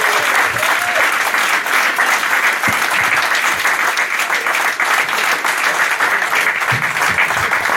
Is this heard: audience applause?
yes